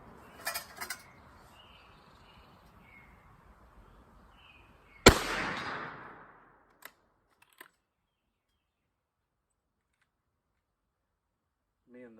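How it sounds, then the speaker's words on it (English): A single sharp rifle crack from a 300 Blackout Savage Axis II booms out and decays, with faint metallic pings from swinging steel targets afterward and brief voices near the start. "See how many shots it takes us"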